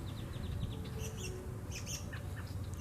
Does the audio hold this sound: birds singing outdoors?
yes